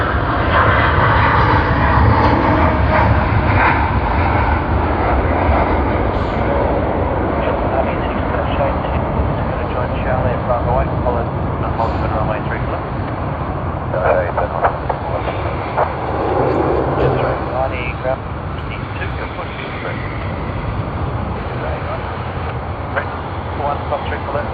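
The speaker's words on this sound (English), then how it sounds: "capture the departure of MF 802 Xiamen to Xiamen on the Boeing 787-9 Dreamliner" A Boeing 787-9 Dreamliner on flight MF 802 to Xiamen departs Sydney Airport with a continuous, loud jet engine roar that holds steady throughout, while people talk faintly beneath it.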